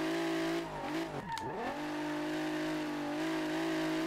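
A very loud race-style track car with drift suspension in Street Legal Racing Redline, its engine droning steadily with a brief rev dip and tire squeal partway through, close and dominant throughout.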